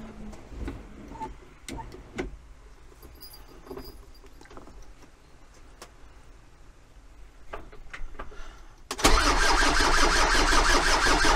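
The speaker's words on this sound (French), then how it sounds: "on retente un démarrage" Engine of an aerial work platform cranking over with starter ticks and mechanical clatter for several seconds, then catching and roaring loudly into a steady run near the end.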